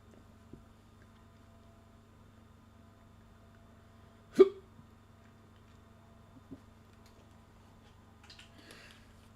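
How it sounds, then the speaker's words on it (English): A single sharp hiccup from someone commentating a football match breaks an otherwise quiet stretch, with a couple of faint ticks before and after. "Sorry, I got the hiccups there as well."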